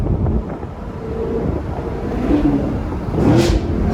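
Camaro 2SS V8 engine droning and rising in revs while cutting through traffic, heavy wind rumble over the microphone, steady and close with a couple of brief surges near the end.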